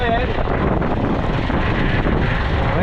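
Boat engines run steadily up close, a dense continuous rumble with wind buffeting, while people talk over it.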